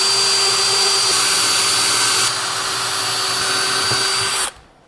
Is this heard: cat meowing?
no